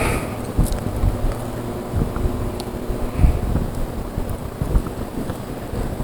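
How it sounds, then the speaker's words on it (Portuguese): Wind blows into the microphone outdoors, making steady low buffeting rumble with irregular gusty thumps throughout, loud and close. "é porque o vento está soprando"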